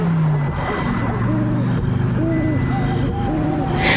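A car runs along an empty road at night, its engine a steady hum with rising and falling tones and a swell of noise near the end, heard under a voice speaking throughout.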